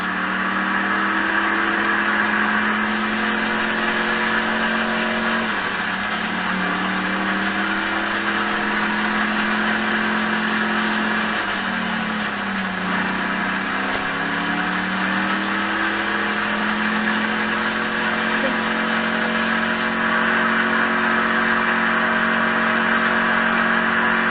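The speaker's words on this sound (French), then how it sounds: "écouter le bruit de cette grosse cylindrée" A deep, throaty Vapid Dominator muscle car engine in GTA 5 drones steadily, with two swooping revs that dip and climb again, loud and close throughout.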